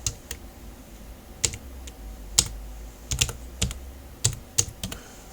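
Keystrokes on a computer keyboard while editing slideshow text in Adobe Lightroom, arriving as scattered sharp clicks with brief pauses between them, close and clear over a faint room hum, with no speech.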